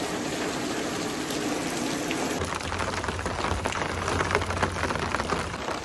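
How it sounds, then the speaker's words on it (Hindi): Steady rain pours down with a constant dense hiss, getting slightly heavier partway through, with a low hum joining in. "मैं बारिश एंजॉय करूंगी पहले।"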